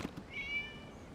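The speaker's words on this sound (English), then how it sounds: "It was just a cat." A cat gives a single short, faint meow, heard alone against a quiet room background.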